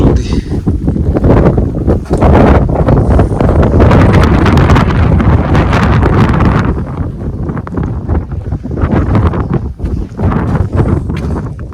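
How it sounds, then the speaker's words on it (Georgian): Strong wind buffets the microphone outdoors in a village in Dusheti, a loud continuous roaring rumble with gusty surges that ease slightly toward the end, and no voices. "ქარია ძალიან"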